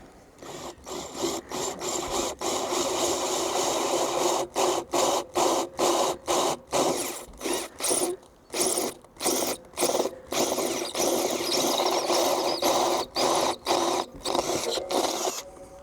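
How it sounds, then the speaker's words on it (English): A large-diameter hole saw cutting through a caravan roof, grinding and rasping loudly and continuously with repeated short pauses and stutters as the bit catches and restarts. "Right, let's get the big hole drilled."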